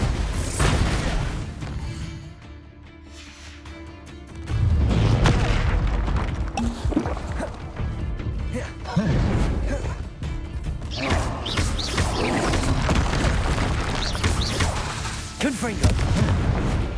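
Confringo and Bombarda spell blasts go off repeatedly in Hogwarts Legacy, with loud booming bursts and crashing impacts recurring in a dense, continuous stream over game music and a voice speaking.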